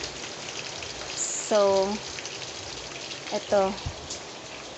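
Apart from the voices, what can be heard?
heavy rain falling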